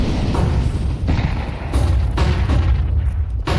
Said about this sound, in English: Nice chunky nade there onto Lucan.